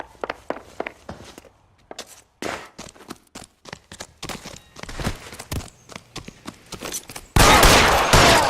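Gunfire in the video game L.A. Noire: a rapid string of sharp close shots and rattling bursts, ending in a sustained loud blast of fire with no talk over it.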